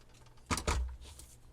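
Ribbon being cut for a journal card holder: two quick, close scissor snips in succession, then quiet.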